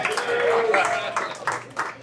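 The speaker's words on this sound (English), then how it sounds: "Keep it clapping for my cousin's boyfriend." Comedy club audience clapping at a stand-up show, a steady patter of hands from a crowd that fades toward the end, with a voice speaking over it.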